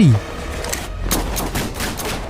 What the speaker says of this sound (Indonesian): sebuah pertarungan 1 lawan 1 menggunakan pistol yang mereka gunakan untuk membuktikan siapa yang cepat menembak